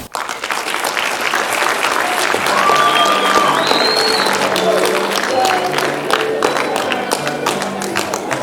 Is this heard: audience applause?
yes